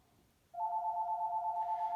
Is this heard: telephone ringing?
yes